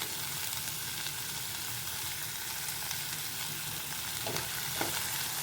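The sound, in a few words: stir-frying ivy gourd (tondli) vegetable in a pan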